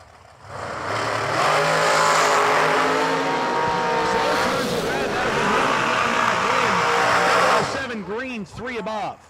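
A black and red dragster launches at a drag racing event, its engine roaring loud and sustained for several seconds before the noise cuts off into a couple of brief revving bursts near the end.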